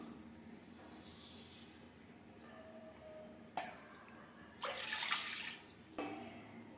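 Two cups of water poured into a pan while making halwa: a brief splash, then a louder, fuller gush of a couple of seconds and a final short splash, over quiet kitchen background.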